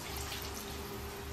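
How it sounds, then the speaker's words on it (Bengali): Water pours steadily into a pot of browned, sautéed meat curry, a continuous close rushing splash with no break or voices. "তো চলো জল দিয়ে দিই।"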